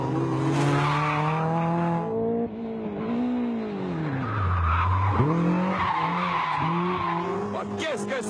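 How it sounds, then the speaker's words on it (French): A high-pitched engine revs up and down in sweeping pitch bends, loud and close, with tire squeal and a voice talking over it. "Écoutez-moi ce moteur, il n'arrête pas de miauler."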